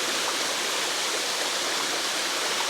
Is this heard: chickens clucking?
no